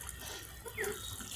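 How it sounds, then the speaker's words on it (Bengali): Water is poured into the soil of a potted Furcraea plant, a close, soft, continuous splashing and trickling that swells briefly midway. "এতে জল দিন, খুব সুন্দরভাবে জল দিন,"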